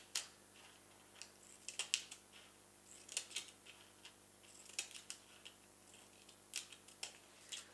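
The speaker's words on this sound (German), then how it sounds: "Plastik lässt sich gut schneiden." Scissors snip around the rim of a plastic cup for Easter decorations, quiet, close, irregular crisp cuts coming in quick bursts with short pauses between them and no talking.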